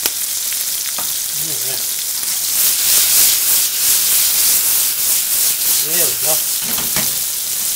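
Onions and tomatoes sizzle and fry in a pan, a loud steady hiss with stirring scrapes, while a voice speaks briefly over the cooking.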